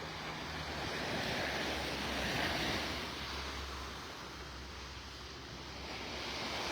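Small ocean waves wash onto a beach in north Naples, Florida, as a continuous soft surf roar that swells and eases, mixed with light wind noise, with no voices.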